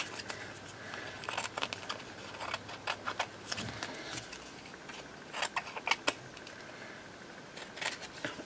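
Scissors trimming around paper belly bands for junk journaling, with a steady run of small crisp snips close up, mixed with light paper rustling.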